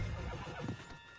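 A horse in the video game Red Dead Redemption 2 gives a short, close whinny over faint hoof clip-clops, heard briefly and fairly quietly.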